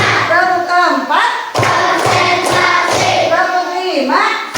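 A classroom group claps in counted sets, with a few sharp claps that come back over and over in a rhythm. Children's voices chant loudly alongside the clapping.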